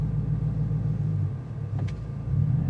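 A six-speed Dodge Challenger idles in first gear with the clutch fully released, a steady low engine rumble close by that dips briefly and then swells again, with a short faint squeak partway through.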